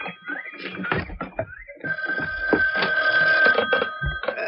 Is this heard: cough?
no